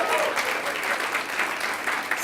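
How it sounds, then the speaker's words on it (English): An audience at a student awards evening breaks into brisk, dense applause that holds steady and loud for a couple of seconds. "kind of a round of applause for those people"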